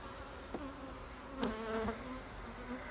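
Honey bees swarm around an open beehive during a frame inspection, making a dense, constant buzzing hum nearby, with a few brief knocks and clicks of handling in the mix.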